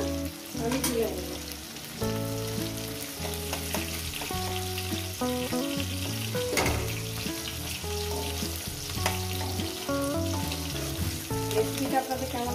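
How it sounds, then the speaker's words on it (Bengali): Potatoes and okra frying in oil give a soft sizzle and stirring scrapes, partly buried under loud background music that plays throughout. "আলু আর ঢেঁড়সটাকে আমার সুন্দর করে বন্ধুরা ভেজে নিয়েছি দেখেন।"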